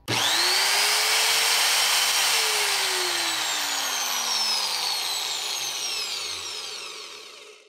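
A repaired Makita angle grinder spins up sharply on a test run, its motor whine rising to a steady high pitch and then slowly winding down as it coasts toward a stop, loud and close with no talking.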